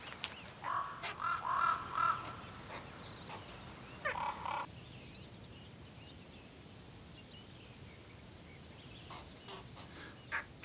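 Young raven chicks in an alpine valley give repeated harsh, hoarse begging calls in short bursts, fairly close, then fade to quiet outdoor ambience with occasional distant calls.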